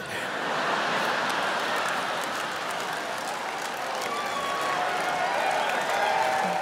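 A comedy-show crowd breaks into sustained applause, a dense, even wash of clapping that holds steady from start to finish at moderate loudness, with no voices standing out above it.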